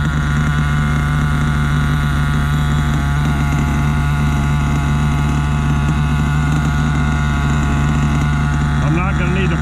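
A nitro-powered RC monster truck engine idles close by, holding a steady, loud buzzing drone with an even pitch throughout and a faint shift near the end.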